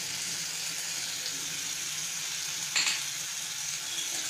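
Tomato paste with masala frying in a pan for an eggplant curry, a steady close hiss and sizzle throughout with a brief brighter crackle partway, no voices.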